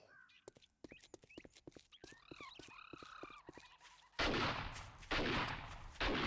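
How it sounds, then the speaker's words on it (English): Gunfire in the 7 Days To Die video game, a few sharp loud bursts arriving late after a stretch of clicking and croaking game sounds, with no talk. "And I hear gunshots."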